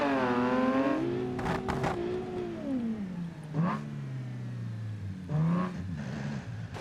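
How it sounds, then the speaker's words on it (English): Supercharged car engine in BeamNG revving loud and close, rising and falling in pitch with strong harmonics, then dropping back to a lower drone before a short second rev burst near the end. "there's one question I don't know is how to make the supercharger quieter."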